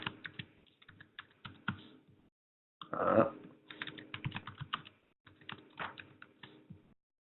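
Fast clicking keystrokes on a computer keyboard while a password is entered, in quick bursts separated by short pauses, close and clear with no talking.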